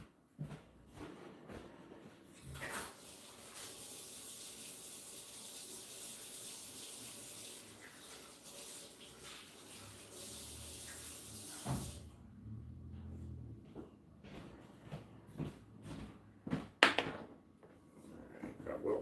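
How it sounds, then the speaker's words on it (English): Water runs steadily from a tap as a hand is rinsed off in a workshop sink, a broad hiss lasting about nine seconds before cutting off, followed by scattered clunks and knocks nearby. "I'm going to go rinse my hand off real quick."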